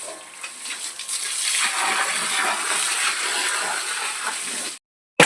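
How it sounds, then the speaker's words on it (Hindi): Steady rushing and splashing of water as a buffalo is bathed, a continuous gushing wash that holds for several seconds, then cuts off abruptly before a brief return at the end. "ये वाली भैंस को नहा रहा है।"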